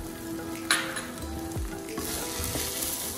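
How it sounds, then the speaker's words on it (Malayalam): Chakkara pongal, sweet rice with cardamom powder and nuts, being stirred in a pan: a steady soft sizzle with scraping of the spoon and one sharper clink early on, no talking. "കുറച്ച് നട്ട്സും കൂടെ ഇട്ട് നന്നായി ഇളക്കാം"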